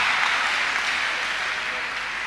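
A church congregation claps together at a Thursday deliverance service, a dense, continuous wash of many hands that holds steady for a couple of seconds.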